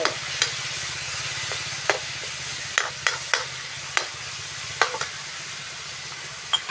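Pork and spring onions stir-fried in a pan, with a steady close sizzle and a low hum beneath. Scattered scrapes and taps of a utensil against the pan come at irregular intervals.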